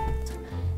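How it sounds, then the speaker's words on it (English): A cartoon character's stomach growls in a short, low gurgling rumble lasting under a second. "That was my stomach."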